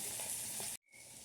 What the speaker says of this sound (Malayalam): ഇഞ്ചി, ചെറിയ ഉള്ളി, പച്ചമുളക് ഇടാം. അപ്പോൾ നന്നായി മുരിഞ്ഞതിന് ശേഷം മസാല ഇടാം.